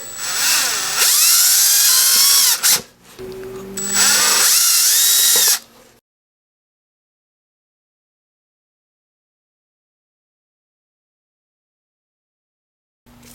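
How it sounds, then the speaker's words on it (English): A loud power drill whines in two bursts with a short pause between, drilling 1/8-inch holes in a Honda Civic's lower dash panel, then cuts off into silence. "Drill out both with a 1/8 bit."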